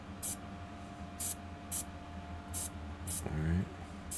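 Airbrush hisses in short bursts while painting a Dracula model kit, about five brief sprays spaced roughly half a second apart, with a voice briefly talking near the end.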